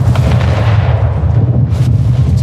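Cannon fire from a schooner's turrets in the naval combat of the video game Anno 1800, a loud continuous rumble of booming blasts filling the whole moment with no pauses.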